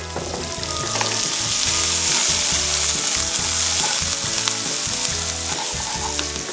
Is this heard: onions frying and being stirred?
yes